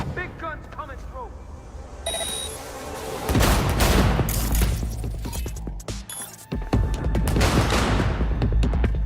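Bursts of heavy gunfire from big guns in the Cyberpunk 2077 video game, loud rapid volleys and booms layered over game sound, with a voice speaking intermittently.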